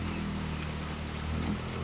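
Heavy rain falling steadily and densely during an approaching strong storm, a continuous broadband hiss and patter on surfaces, close and even in level throughout.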